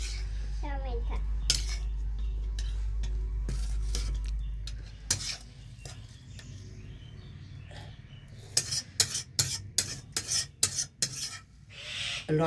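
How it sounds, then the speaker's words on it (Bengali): Tomato cooking down with salt in a pan while being stirred, with metal spoon scrapes and clinks against the pan, a low hum early on, then a busy run of scraping and tapping. "টমেটোটা জাল দিয়ে নিলাম লবণ দিয়ে"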